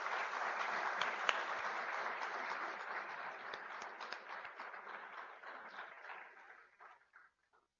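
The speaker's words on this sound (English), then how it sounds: "Please join me in a round of applause and thanks for the associate program directors." Sustained applause from a large audience at a medical department awards ceremony honoring associate program directors, a dense steady wash of clapping that gradually thins and fades out near the end, with no talking over it.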